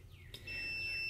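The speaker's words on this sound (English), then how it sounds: "I have it set up on the continuity buzzer" A faint hiss gives way to a steady, high electronic beep from a continuity tester buzzer checking car wiring, holding continuously.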